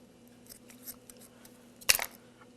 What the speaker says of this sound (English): And now we just want to cut open this bag.